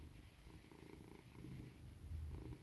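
A domestic cat purrs steadily while held in someone's arms, a low continuous rumble close to the ear that swells slightly louder toward the end, with no talking.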